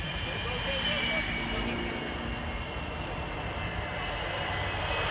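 Airshow aircraft racing a jet-powered bus along a runway, a steady loud engine roar with broadband rumble and a high whine, continuous throughout with crowd noise underneath.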